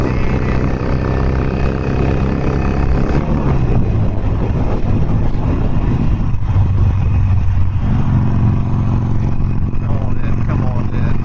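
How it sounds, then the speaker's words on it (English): A Harley-Davidson Sportster Forty-Eight motorcycle accelerates on a highway, its engine rumbling loud and close and climbing in pitch through the gears, with heavy wind buffeting over it. "So let's do a little highway acceleration."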